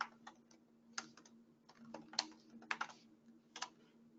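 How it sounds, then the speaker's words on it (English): Keystrokes on a computer keyboard come in short irregular bursts of soft clicks, quiet and near, over a faint steady hum of a desktop setup. "I'm just going to click onto the canvas here and type in reprojector to add that"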